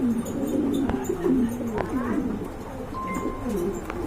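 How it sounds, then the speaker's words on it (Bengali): A pair of Holy Cooper pigeons coo in repeated low, rolling phrases close by, with a few faint clicks and a short tone in the background. "এক জোড়া হলি কুপার দেখতে পাচ্ছেন, মাশাআল্লাহ খুবই সুন্দর"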